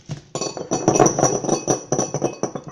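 A whisk clinks rapidly against a bowl while ravioli filling is mixed, giving bright, irregular metallic taps in quick bursts, close and fairly loud, with no talking.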